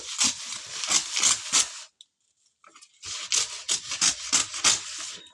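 Several crisp snipping cuts of paper by scissors, in two bursts separated by a brief pause, close and clear.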